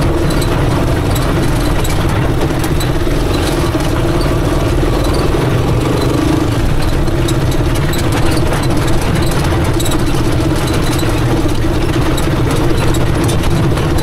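A chariot tuktuk engine straining in low gear as it climbs uphill hauling heavy 35-gallon containers, a loud, steady low drone with constant vibration and no letup.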